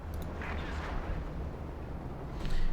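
An artillery barrage strikes a base in Company of Heroes 2, heard as a faint, distant, continuous rumble of blasts with no clear separate impacts.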